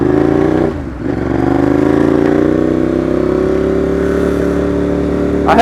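A 2015 Ducati Monster 821 engine pulls hard under acceleration, a loud, close, rising growl that dips briefly at a gear change, then climbs steadily again.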